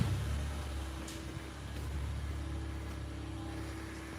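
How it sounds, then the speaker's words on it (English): A Honda Civic Type R FK8 with stock turbo on flex fuel runs on a dyno with the cooling fan off, giving a steady, moderately loud engine drone with a constant low hum and no talking. "We're gonna leave the fan off so you can actually hear the car a little bit better."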